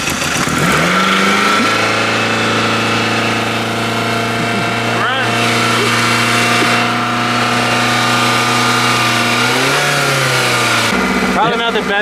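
A car left undriven for a year starts and revs hard at full throttle toward 3,000 RPM, its loud, steady engine drone holding for most of the stretch, rising briefly before dropping off near the end.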